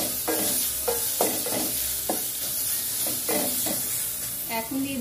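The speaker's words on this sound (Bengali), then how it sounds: "মিশিয়ে ভালো করে মেলে দিতে হবে।" Carrots and tomatoes stir-fried with garlic and ginger paste, spatula scrapes and clacks recurring in an irregular rhythm over a steady close sizzle, with faint voice in the background.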